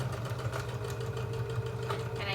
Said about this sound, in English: The sewing machine is shaking the table a bit because I don't usually use this table to sew